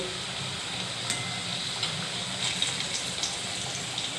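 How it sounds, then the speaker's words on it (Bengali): Potatoes frying in oil in a wok, a steady broadband sizzle with faint clicks and occasional stirring taps, continuous and close, with no voices. "এই আলুগুলোকে আমি লাল করে ভেজে নেব"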